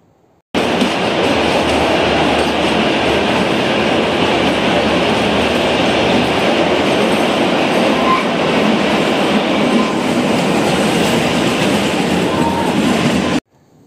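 The Kalka to Shimla toy train in Himachal runs on its narrow-gauge tracks with a loud, continuous rumble and rattle of wheels that holds steady for most of the stretch before cutting off abruptly.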